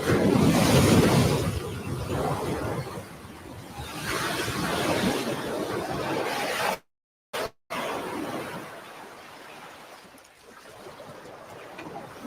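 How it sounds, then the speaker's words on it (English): Ocean waves pound a beach in a steady roar of surf with wind noise, rising and falling in broad washes, then briefly dropping out and returning quieter. "Many will drown in the pounding waves."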